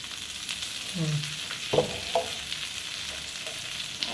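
Bangude fish (Indian mackerel) frying in oil in a pan: a steady, close sizzle with a few brief scraping stirs and soft clinks breaking through, no talking.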